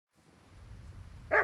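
A dog in the Kingdom Come Deliverance 2 video game gives a single short bark near the end, over a faint low ambient rumble.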